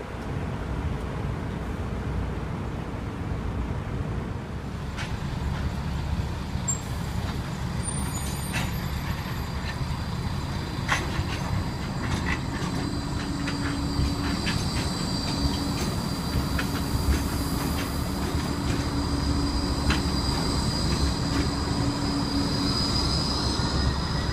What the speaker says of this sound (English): The G-Link trams are called Flexity 2 and they were built by Bombardier.